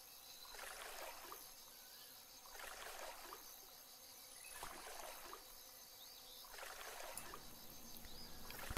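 Oar strokes from a rowboat in the fishing game Fishing Planet, set on water in Peru: four steady, evenly spaced splashing swishes over faint insect and water ambience, soft and unhurried, with no voice.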